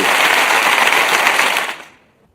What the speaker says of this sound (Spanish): Un gran aplauso para